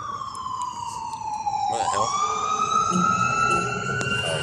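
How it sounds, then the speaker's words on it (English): An ambulance siren wails past in a street setting, its steady tone sliding down in pitch as it goes by, loud and continuous, with a man's brief exclamation over it. "Oh, ambulance."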